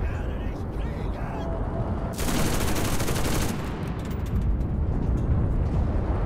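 Machine gun fire in the Enlisted infantry shooter, a loud burst of rapid shots lasting a couple of seconds amid ongoing battle noise, with a player talking over it.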